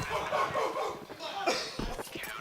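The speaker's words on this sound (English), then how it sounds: "Did you hear the barking and growling?" A dog barks and growls in short yips and rumbles, fairly faint and somewhat muffled, mixed with a low background murmur.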